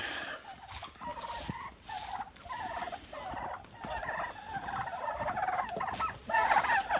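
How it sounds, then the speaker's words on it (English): Several turkeys gobble and squawk in overlapping bursts throughout, close by and fairly loud, a busy chattering flock with no talking. "that's why they're squawking"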